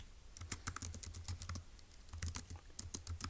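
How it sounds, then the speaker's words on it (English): Fingers type on a computer keyboard, giving quick, soft, close clicks in irregular bursts with a short pause midway, and no talking. "so let's actually type that up"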